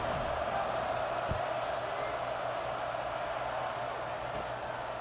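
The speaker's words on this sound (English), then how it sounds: "They're set to kick it off, and this crowd now ready to get behind them." Stadium crowd in EA Sports College Football 26 roars continuously before a kickoff, a dense steady wash of cheering with a couple of faint thumps, no speech heard.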